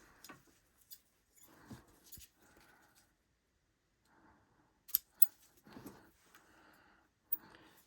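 Scissors cutting a piece of craft ribbon for a sewn zipper pouch, with faint, close snips and rustles scattered across a quiet space, including a few sharper clicks.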